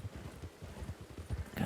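A horse's hooves clip-clopping in a video game, a steady rhythmic trot of soft low thuds, fairly close, ending in a louder rustling burst.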